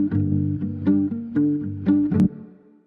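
A music track with a Gross Beat ducking effect pumps in rhythmic swells, each beat dipping and rising again over a low, warm tonal bed, with no voices.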